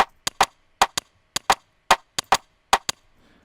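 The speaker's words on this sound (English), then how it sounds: "make this shaker sound kind of nice" Crisp, dry percussive hits repeat in a quick syncopated pattern, a shaker rhythm loop in an Afrobeat track playing alone with short gaps between strikes.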